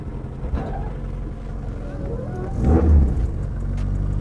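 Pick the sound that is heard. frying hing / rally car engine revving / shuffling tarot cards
rally car engine revving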